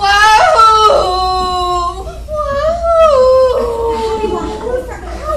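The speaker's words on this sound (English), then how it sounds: "made these incredible howling noises" A woman in labour during childbirth lets out long, loud, wavering howls close by, her voice rising and falling in drawn-out moaning cries.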